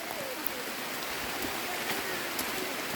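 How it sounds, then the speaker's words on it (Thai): Rain falls on Don Sawan island as a steady, even hiss that fills the air, with scattered faint drips and no clear pauses. "ฝนตกนะคะบนเกาะดอนสวรรค์นะคะ"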